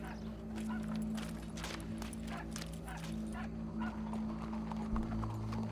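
Horse hooves clip-clop in the Red Dead Redemption video game, a steady rhythmic clopping mixed with dog barks and game ambience at moderate level.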